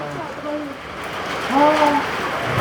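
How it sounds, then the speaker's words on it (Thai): Rain falls steadily and hisses during a storm, with a person speaking over the downpour throughout. "ฝนเข้า"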